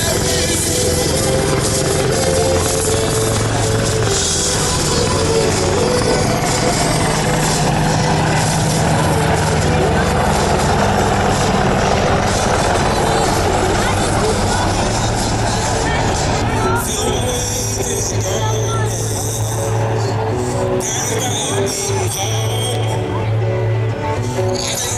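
AH-64D Apache attack helicopter flying a demonstration at the Boeing Seafair 2024 air show, a loud, steady turbine and rotor roar with low throbbing tones and broad noise that holds for the whole stretch before easing slightly near the end.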